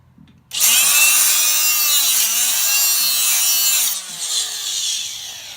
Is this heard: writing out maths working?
no